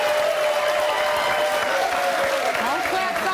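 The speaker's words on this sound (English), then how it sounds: "Don't clap so soon." A studio audience at a talk show about marriages and engagements claps steadily for the full stretch, a dense continuous applause with voices talking over it.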